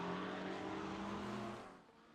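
GT3 race cars, a Ferrari among them, drone past on the Long Beach circuit in a racing video game, a steady harmonic engine whine that holds loud and then fades away toward the end.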